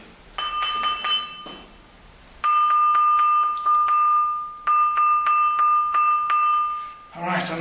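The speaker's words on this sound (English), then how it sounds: "You realize that this thing really rings like a bell" Large stone object struck and ringing like a bell, with clear sustained bell-like tones from repeated strikes, several rapid taps in groups, some ringing on alone and some fading into quiet.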